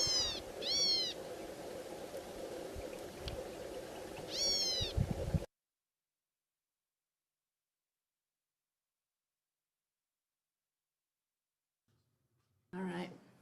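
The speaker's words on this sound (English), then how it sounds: "The California gnatcatcher distinguishes itself from the blue-gray gnatcatcher by its kitten-like mewing sound." A California gnatcatcher gives repeated kitten-like mewing calls, close and clear against a steady background hiss, followed by silence and a brief return of sound at the end.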